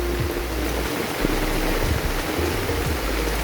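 Rushing water from a waterfall swollen by typhoon rain roars in a constant broadband wash, steady throughout with a low rumble.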